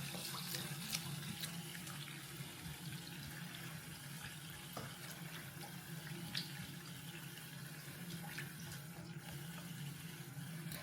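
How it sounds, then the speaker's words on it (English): Lukewarm water runs from a tap into a sink as it fills for soaking hand-knit socks, a steady, fairly quiet rushing splash that continues evenly throughout, with no one talking. "I do use a little bit of warm water, not roasting, but just lukewarm. So I fill the sink up enough."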